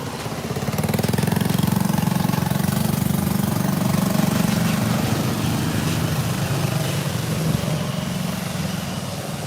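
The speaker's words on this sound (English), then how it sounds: "I just can't even stand without getting approached by motorbikes." Motorbike engines running on a street in Cambodia, a steady loud low rumble and drone of nearby idling and passing bikes filling the whole stretch with no talk over it.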